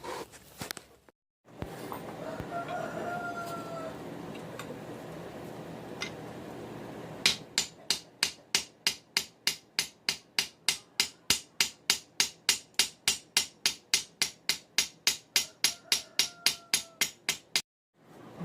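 Steady hammer blows peen the pins on a forged farrier rasp knife, about thirty sharp rhythmic strikes close up after a stretch of quieter workshop handling and shuffling.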